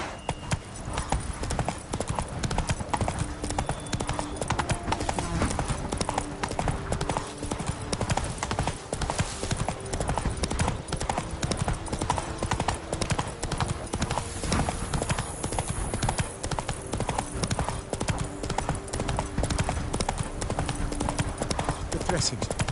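Horse hooves clip-clopping steadily throughout in The Witcher 3, a continuous rhythmic trot under game music and voices.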